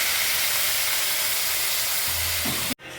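Water poured into a hot pan while cooking vegetable curry produces a loud, steady hissing sizzle that fills the scene, then cuts off abruptly near the end after a brief clatter.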